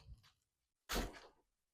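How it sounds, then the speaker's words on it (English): A door opened for a dog indoors: a soft early knock, then a single loud, close thunk and scrape of the door swinging, fading within half a second, with no talking. "Let me open this door for my dog."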